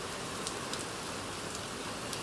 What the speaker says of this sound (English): I'm getting rain here, obviously